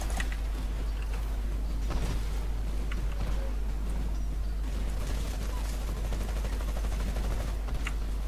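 Gunfire from a weapon in the video game Titanfall crackles in rapid, continuous bursts with several sharper shots standing out, loud and busy throughout, with a little talk mixed in.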